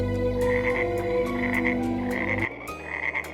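A frog croaks in repeated rhythmic bursts, loud and close, with a shorter series of croaks following a brief change in the background.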